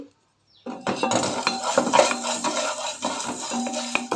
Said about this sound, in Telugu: ధనియాలు కూడా చిట్పట్లాడుతున్నాయి